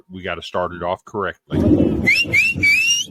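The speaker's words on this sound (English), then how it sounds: "I would like to apologize for our new audio listeners for that whistle sound in your ear." A person speaks briefly, then a loud, rising whistle plays three times in quick succession over a rough, noisy background.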